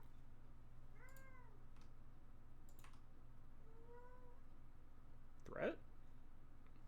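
A pet cat meows twice in clear rising-falling calls near a computer, over a steady low hum, with light clicks and a sharp brief noise near the end.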